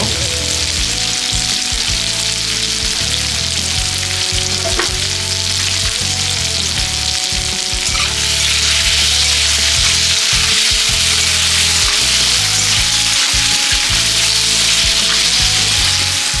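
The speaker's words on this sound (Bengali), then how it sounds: "এটা হালকা ভেজে নিচ্ছি।" Potatoes fry in oil in a pan, giving a loud, steady sizzle throughout with occasional soft scraping and stirring knocks.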